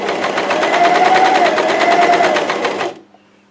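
A Janome 2000cpx Coverpro coverstitch machine stitching fabric, running in a fast, even mechanical rhythm for about three seconds, loud and close, then stopping abruptly into near silence.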